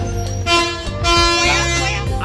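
A vehicle horn honks loudly in a couple of blaring blasts, close and forceful, with a rumbling engine underneath, at a park in Tirunelveli.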